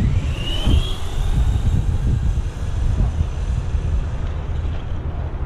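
An HSP Wolverine RC car running on a NiMH battery races past outdoors. A brief rising electric motor whine sits over a steady rush of wind and rolling noise from the tires.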